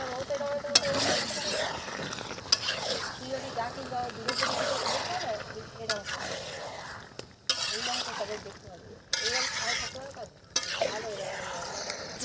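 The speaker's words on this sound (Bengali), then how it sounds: "এবারে দিয়ে দিচ্ছি মাংস। কড়া ভর্তি হয়ে গেছে" Chicken meat fries in a crowded wok, a close sizzle broken by repeated scraping stirs and metal clinks that come in bursts with short pauses between them.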